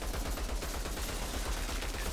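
Dense, sustained gunfire from a weapon in the video game Outriders Worldslayer, a loud continuous burst of rapid shots filling the whole moment with no talking over it.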